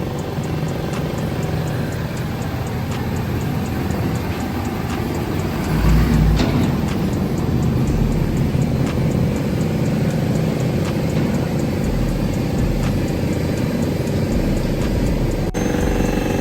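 A Ford F250 pickup truck rolls into a lift inside an auto shop, its engine a steady low rumble with a brief louder surge partway through, with no talking.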